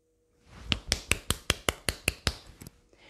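About ten quick, evenly spaced knocks are rapped out as a door-knocking effect during a told children's story of the three little pigs. The knocks are crisp and close, with no talking over them.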